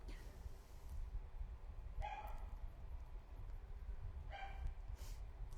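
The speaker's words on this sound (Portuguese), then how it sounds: "Os cachorrinhos estão agitados aqui hoje." Small dogs bark in the background, with two short bark bursts a couple of seconds apart over a faint, steady room hum, quiet and somewhat distant.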